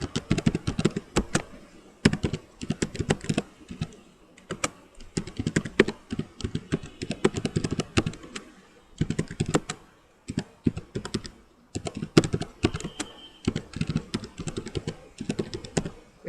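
Steady bursts of typing on a computer keyboard as answers are entered into an online e-learning quiz, rapid clattering keystrokes in runs separated by brief pauses, close-miked and continuous for a long stretch.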